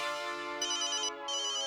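A phone ringtone plays alone, a steady electronic melody that continues through the whole moment, briefly dipping before resuming.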